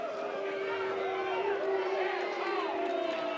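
A college baseball stadium crowd at a North Carolina versus USC game hums with steady chatter and a faint cheer, under a close commentator's voice that talks throughout.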